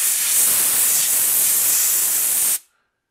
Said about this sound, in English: So this air dusting thing is at 100 PSI